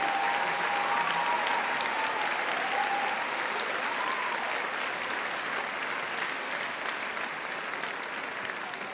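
A theatre audience at a virtual fashion show gives sustained applause, a thick continuous wash of clapping that stays loud throughout, with a faint whistle or voice briefly rising above the crowd.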